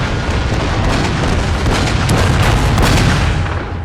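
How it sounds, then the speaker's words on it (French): Cannons firing a salvo, rendered as a sound effect, with continuous loud booming rumble and overlapping blasts sustained throughout, with no talk. "Puis, dans un rugissement assourdissant, les canons tonnent, libérant une salve dévastatrice."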